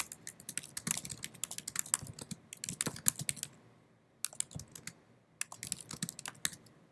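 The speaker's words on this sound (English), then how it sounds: "So I'm going to just type in my own words." Rapid typing on a computer keyboard, with dense bursts of close key clacks that break off for short pauses and then start again, fairly quiet and with no voices.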